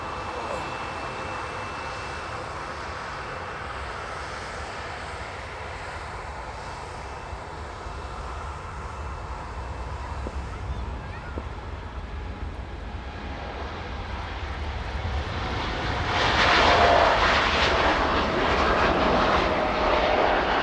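A TUI airliner rolls for takeoff on the runway at Manchester Airport, a steady distant jet rumble that swells into a louder roar toward the end, with some talk under it.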